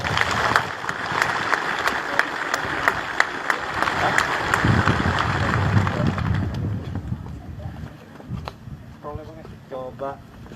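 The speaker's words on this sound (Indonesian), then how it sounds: "Ya, tepuk tangan dulu." Crowd applause at a live event with an army chief of staff, dense clapping for several seconds that thins into scattered claps, with voices and some rumble underneath.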